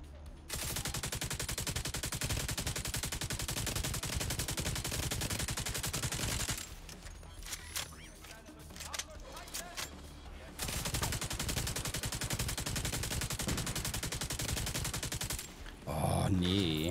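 Sustained automatic gunfire rattles in the video game The Division 2, with long dense bursts broken by a short quieter pause and then more shooting.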